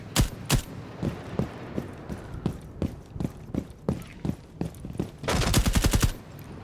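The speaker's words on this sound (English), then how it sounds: "Deimos did kill someone with his AK" Video game gunfire from an AK rifle in Rainbow Six Siege, sharp shots in scattered single cracks and short bursts, ending in a loud rapid automatic burst near the end.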